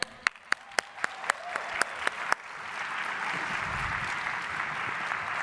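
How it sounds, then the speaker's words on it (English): A handful of sharp, separate claps at a Toastmasters talk swell into full audience applause for a volunteer, the dense clapping carrying on steadily to the end. "Let's give her a hand."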